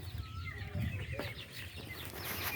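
A brooding hen sitting on eggs clucks in low, soft bursts over a steady rustling background, close by and moderately loud, with no talking.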